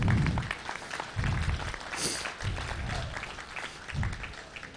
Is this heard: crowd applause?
yes